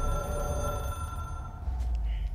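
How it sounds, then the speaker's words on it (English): A telephone rings in the video game Control, a continuous electronic ringing tone that cuts off partway through, leaving low room hum and faint tones. "I have a feeling like that telephone is the cause of all of this"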